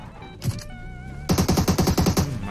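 Rapid automatic gunfire in a mobile shooter game, a few shots followed by a tight burst of about nine evenly spaced cracks, loud and close over game sounds.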